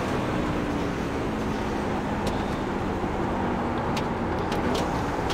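NASCAR race cars during a live broadcast, a steady dense roar of engines and road noise running throughout, with faint higher whines passing now and then.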